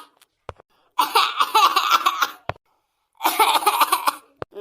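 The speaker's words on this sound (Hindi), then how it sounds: "ये खांसी हो रही बुरी" A cartoon donkey-like character coughs after eating spoiled Dasheri mangoes, with two strained, voiced bursts of coughing and sputtering separated by a pause, plus a few sharp clicks.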